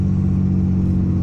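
A manual car's engine hums at a steady mid-pitched drone from inside the cabin during a shift from first into second gear, loud and even with no talking.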